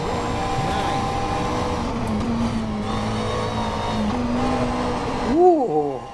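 A race car in the rFactor 2 sim-racing game holds a steady, loud engine drone through a corner, then gives sharp, quick rev blips at the end, with a voice talking over it.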